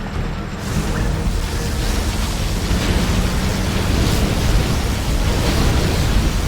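A USA particle cannon fires its sustained laser beam in Command & Conquer Generals Zero Hour, a loud, steady roaring wash of broadband energy that holds for several seconds without a break.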